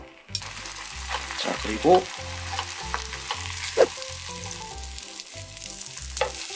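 Vietnamese banh xeo batter frying in a pan, a steady close sizzle running throughout with occasional clinks of utensils and a few brief spoken words, with background music underneath.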